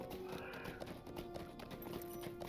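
Horse hooves clip-clopping with an occasional whinny at a stable in the video game Lord of the Rings Online, a steady moderate bed of game ambience and hoofbeats with a faint tonal hum underneath.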